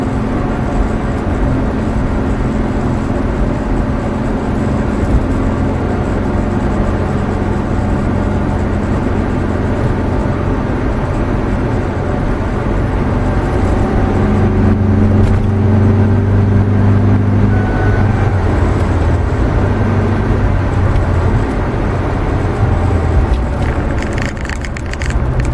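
A Volvo 240 car drives along with a steady engine hum and road rumble, the drone swelling slightly midway and staying continuous throughout, with no voices.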